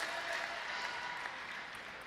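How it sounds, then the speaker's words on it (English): The Chinese team bench at a Paralympic table tennis match in London, 2012, applauding in approval: steady, dense clapping blending into an even wash of applause throughout, moderately close. "And the Chinese bench clapping approval"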